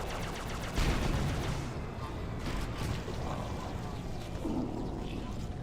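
Grenades go off during Halo CE gameplay with the Ruby's Rebalanced mod: dense, continuous battle noise with a heavier burst near the start, blasts and crackling fire blending together at close range.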